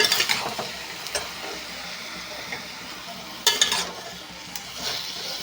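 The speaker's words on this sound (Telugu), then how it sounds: "ఇప్పుడు ఇలా ఫ్రై చేసుకుంటూ ఉండాలి" Salted raw prawns fry in a pan for a masala curry, with a low, steady sizzle broken by a few sharp clinks and scrapes of stirring.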